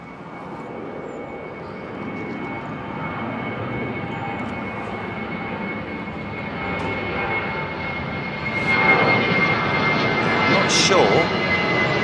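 Heavy jet airliners departing Heathrow Airport's runway 09 right produce a steady, broad engine roar heard from a distance, swelling louder toward the end as an aircraft climbs out.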